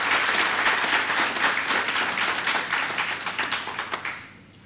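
A political party congress audience claps in steady applause that thins out and fades to a close after a few seconds.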